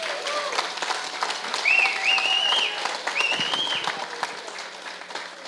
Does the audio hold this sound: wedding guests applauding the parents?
yes